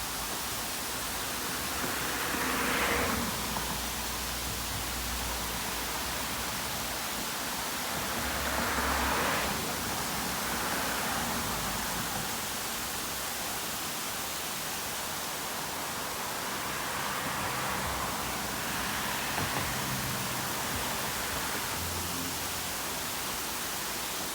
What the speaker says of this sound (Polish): Taki oto wodospad